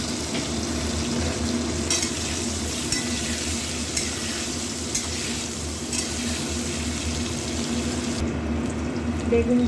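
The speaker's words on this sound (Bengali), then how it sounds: "এবার ভেজে নেবো বেগুন।" Eggplant (brinjal) pieces fry in hot oil for a lunch of bottle gourd leaf curry, with a steady close sizzle and a few scraping stirs. No voices are heard.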